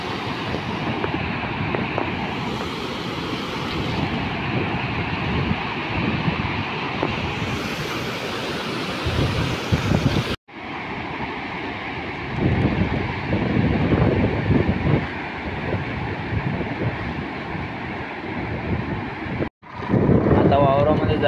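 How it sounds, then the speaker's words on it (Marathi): A swollen river rushes in a continuous loud roar, heard close by with heavy wind buffeting the microphone and people talking over it. "तुम्हाला पहिले ना नदीचं लय पाणी झालंय नदीला"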